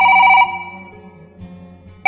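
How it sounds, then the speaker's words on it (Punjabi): A phone rings with an incoming call: a loud electronic ring burst sounds at the start, pauses through about a second and a half of quiet, then starts again at the end. "ਉਹਦਾ ਫੋਨ ਆ ਗਿਆ"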